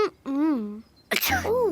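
A cartoon character with hay fever gives a voiced, acted sneeze: a short hum, then a sharp, close burst of breath that trails into a drawn-out vocal sigh.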